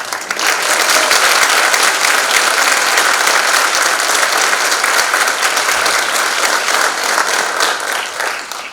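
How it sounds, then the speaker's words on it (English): Audience at a National Honor Society induction applauding the new members: loud, dense, continuous clapping from a large crowd, sustained for several seconds before easing slightly at the end. "Please join me once again in applauding all of our new National Honor Society members."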